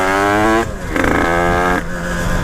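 Moped fitted with a new 86cc Top aluminium cylinder block revs hard, its two-stroke engine note rising and falling across a short close burst with no talking.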